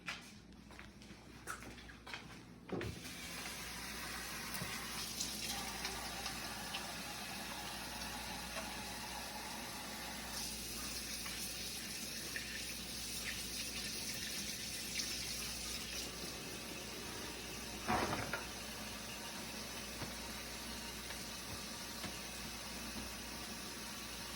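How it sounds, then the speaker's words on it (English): Running water from a sink tap as hands are washed before a clinical head-to-toe assessment, a steady faint hiss lasting most of the time, with a few brief clunks near the start and a short splash later. "So I'm going to wash my hands, and I'll be right back with you"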